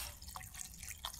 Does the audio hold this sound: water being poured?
yes